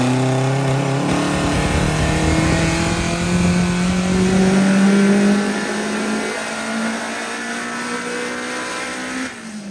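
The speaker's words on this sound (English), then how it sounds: "This is our turbocharged K24 powered Honda Prelude with gigantic meaty tires on it and all sorts of awesome aero" Turbocharged K24-powered Honda Prelude race car with a sequential transmission and high-boost tune, revving hard on a track: a loud, close engine whose pitch climbs through several gear steps, then settles into a steady drone, with no talking.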